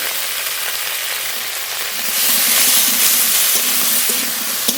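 Salt and turmeric powder frying in hot oil for a cauliflower and fish curry, a steady close sizzle that grows louder and brighter halfway through and keeps hissing evenly to the end.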